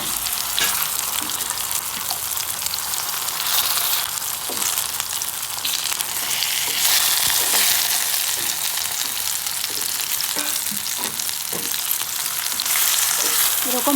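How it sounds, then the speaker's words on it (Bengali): Nona ilish paturi, salted hilsa wrapped in parcels, fries in a pan with a loud, dense, continuous crackling sizzle and a few faint stirring scrapes, heard up close with no voices. "এরকম হালকা আছে আমি পাতুরিগুলিকে ভেজে নেব।"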